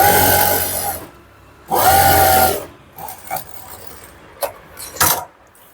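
A sewing machine stitching a pointed stitch on pants runs in two loud close bursts, each about a second long, followed by quieter rubbing and handling of the fabric with a few sharp clicks.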